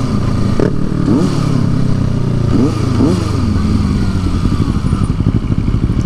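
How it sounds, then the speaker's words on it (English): A motorcycle with its exhaust baffle removed rumbles loudly and revs, letting out short crackling backfire pops in quick bursts, close and with no talking. "He likes them backfire pops."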